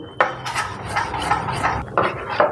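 Rice flour batter for soru chakli is mixed with water in a bowl, a close series of rhythmic wet scraping strokes and light clinks of a utensil against the bowl, no talk.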